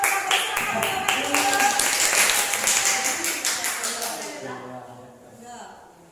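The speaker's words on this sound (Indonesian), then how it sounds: "Tepuk tangan untuk Bapak Guru." A classroom group claps for a male teacher, a burst of quick, dense applause at close range that fades out over several seconds, with voices mixed in.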